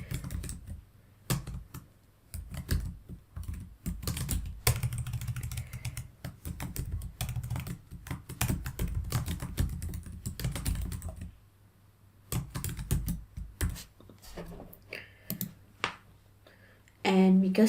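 Rapid, close keystrokes clatter on a computer keyboard while a name is typed into a workflow app, coming in long dense runs with a brief pause near the middle.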